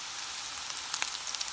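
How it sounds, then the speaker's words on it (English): Seven small wild boar meatballs fry in a pan, giving a faint, steady sizzle with occasional tiny pops and crackles. "All right, so I got the 7 little meatballs there cooking."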